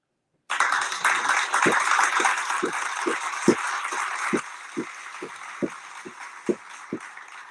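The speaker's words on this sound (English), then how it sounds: "let me hit the round of applause real quick" Canned round of applause played as a sound effect, a burst of crowd clapping and cheering that starts suddenly, then thins out into a string of separate louder claps.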